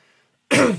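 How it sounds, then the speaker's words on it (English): A single harsh cough or throat-clearing bursts out close and loud after a moment of near silence, cut off quickly. "What is this cough?"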